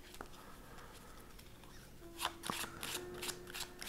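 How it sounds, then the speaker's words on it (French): Playing cards cut and riffled during a card magic trick, soft quiet shuffling with several brisk bursts of riffles in the latter half, near and gentle. "Le spectateur peut couper aussi et remélanger."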